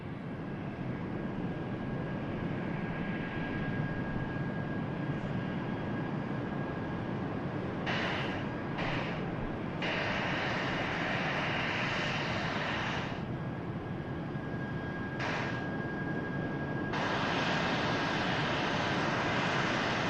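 A Qatar Airways airliner arrives at Manchester Airport, its engine roar a steady, fairly distant broadband rumble holding throughout, with a faint tonal whine and no voices.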